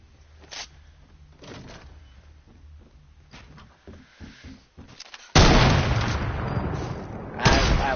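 Video game gunfire: a sudden loud gunshot blast cuts in sharply after a stretch of quiet background sound, rings out, and a second louder burst follows near the end.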